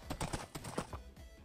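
Hooves of a fast horse clatter in a quick, uneven run across the ground in the Minecraft video game, loud and close for a brief burst.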